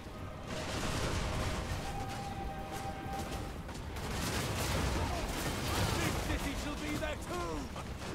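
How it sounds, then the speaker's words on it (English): Missile fire in a Total War: Warhammer 2 battle, with shielded dark shards in the front line: a steady, distant rumble of volleys and impacts under a dense battle din, with occasional voices. "They've got shields, so they should be quite good for soaking up some of this missile fire."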